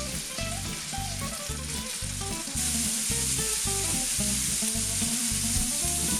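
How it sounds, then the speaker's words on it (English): Bacon pieces fry in a pan of vegetable oil and butter, giving a dense, continuous sizzle with crackling pops close by. The sizzle grows slightly louder partway through. "in with a drop of vegetable oil and some butter. Then we can put our bacon pieces in."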